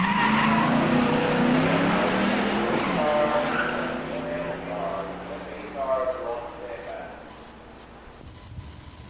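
Ford Mustangs, an 87 LX 302 HO and an 86 GT 302 with 5-speeds, launch at a drag strip with loud tire squeal and rising engine tones that fade into the distance, under a commentator's voice.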